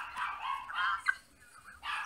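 A dog in The Sims 3 gives several short, close barks and yips in quick succession, with brief pauses between them and no talk over them.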